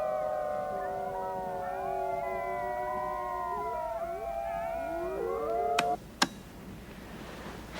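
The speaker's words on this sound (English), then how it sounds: "The alpha male, to me, has the most distinctive voice for his. Halfway through the howl, he changes an octave." Several white wolves, led by the alpha male, howl together in long overlapping wavering tones, with one voice dropping in pitch midway; two sharp clicks cut in near the end as the chorus fades.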